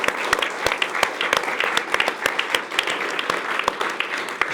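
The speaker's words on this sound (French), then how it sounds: "sans son producteur Arnaud Soyer, on l'applaudit bien fort" An audience on a French television talk show claps for the producer, a steady patter of hands at moderate distance, fairly quiet and even, with no voices over it.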